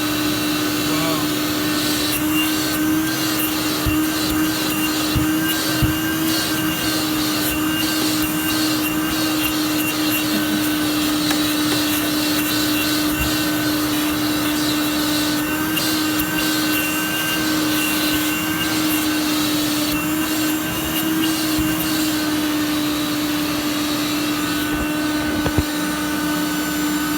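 A Hotpoint 3650/3651 cylinder vacuum cleaner runs continuously with a loud steady motor drone and a high airy whine, its pitch wavering slightly as the hose moves, while a voice talks intermittently over it.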